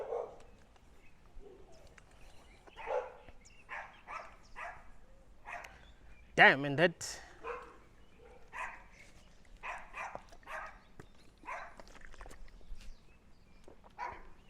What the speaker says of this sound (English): I'm not used to dogs barking at me.